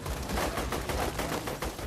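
Rapid machine gun fire from Borderlands 2, loud and close, with quick rhythmic bursts of shots repeating without pause across the whole moment.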